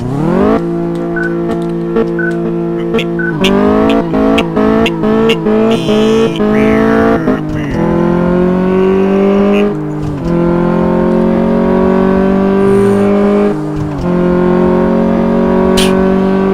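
A car engine in Car Mechanic Simulator during a quarter-mile test drive, loud and close, revving up through a run of rapid gear shifts, each climb rising in pitch, then settling into long sustained high-rev pulls.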